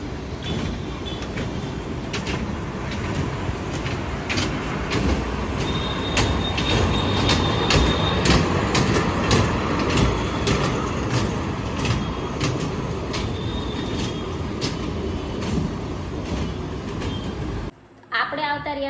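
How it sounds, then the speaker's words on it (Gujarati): Rumbling train ride with continuous rolling wheels and rattling carriages, carrying occasional sharp metallic squeaks. A voice talks at times over the steady noise. "ટ્રેનમાં એને બેહવું હોય."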